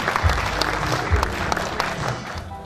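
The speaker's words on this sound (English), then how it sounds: "A big round of applause for Coach Mike Mutevi." Audience applause at the Uganda Premier League awards, a steady patter of clapping that fills the short clip without pause.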